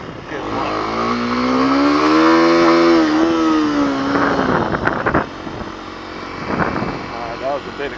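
Dirt bike engine while riding, a loud close droning motor whose pitch rises and falls with the throttle, steady for several seconds and then choppier, with wind noise throughout.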